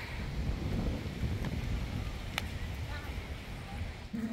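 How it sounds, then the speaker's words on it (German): Gusty wind buffets the microphone in a continuous low, rough rumble, fairly faint, with murmured voices partly buried beneath it, outdoors at a horse show-jumping tournament. "Jo, es ist immer noch total windig."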